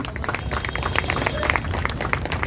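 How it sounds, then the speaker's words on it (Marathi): An audience applauding at a program, a brief stretch of dense, steady clapping from many hands in a hall, fairly loud and even throughout. "दादांसाठी जोरदार टाळ्या झाल्याच पाहिजे"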